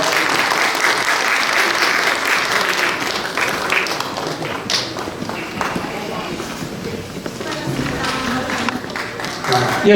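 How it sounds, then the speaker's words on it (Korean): Applause from the audience at a redevelopment union's general assembly rises as a steady dense wash across the full stretch and stays loud throughout, with a murmur of voices mixed in. "다시 한번 박수 부탁드리겠습니다."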